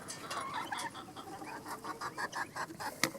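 Yokohama bantam chickens clucking in a flock, a busy run of short overlapping clucks and calls at close range with a sharper peep near the end.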